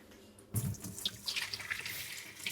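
Starchy water from washed rice is poured off into a sink, starting abruptly after a short quiet moment as a steady close splashing stream with some bright drips, fairly soft and with no voices.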